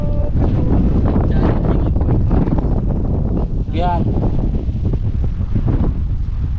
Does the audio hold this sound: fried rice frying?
no